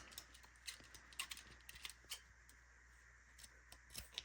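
Scissors snipping crochet yarn at close range, a few faint, short clicks and snips against a quiet background.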